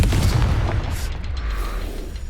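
A Confringo fire spell explodes in Hogwarts Legacy with a deep, rumbling boom that swells and then fades over a couple of seconds, loud and close, with no voices.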